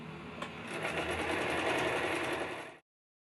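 A sewing machine runs in one continuous fast burst of stitching along the edges of fabric for a girl's bag, then stops abruptly.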